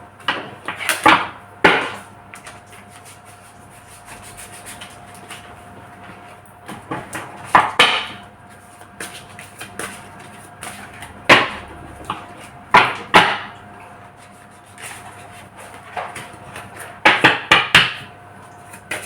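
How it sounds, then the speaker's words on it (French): A deck of cards is shuffled by hand up close, in several separate rapid riffling bursts with short pauses between them and no talking. "Je vais bien mélanger les cartes."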